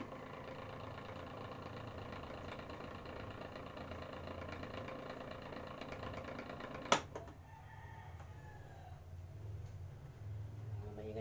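A noisy electric fan motor drones steadily with a rattling buzz throughout, briefly cut by a sharp click before the whirring resumes, slightly quieter.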